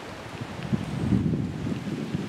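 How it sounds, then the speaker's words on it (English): Wind moving through woods under tree cover before rain, a soft continuous whooshing rush that swells slightly in the middle, with no voices. "Getting windy."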